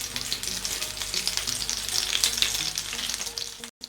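Chapli kebabs sizzle steadily as they fry in hot oil, a continuous close crackle with occasional stirring, cutting off briefly near the end.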